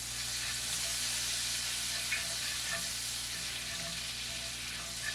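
Leeks sizzling in butter in a skillet, a soft, even frying hiss held steady for a few seconds with faint stirring ticks, no talking.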